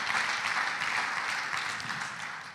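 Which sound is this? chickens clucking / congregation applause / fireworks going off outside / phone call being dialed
congregation applause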